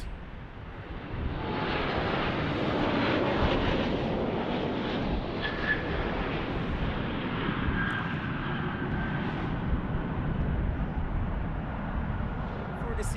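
An Aeromexico jet airliner passes with a broad, rushing engine roar that rises quickly and then holds steady, fairly loud throughout, with some speech mixed in.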